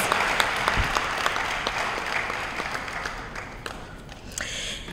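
Steady applause at a school committee awards meeting for spelling bee winners, a room of people clapping continuously at moderate volume, gradually fading slightly toward the end.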